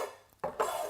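Kitchen clearing up in a cookery session, dishes and utensils clattering and clinking close by in a short burst of rattling handling, no talking.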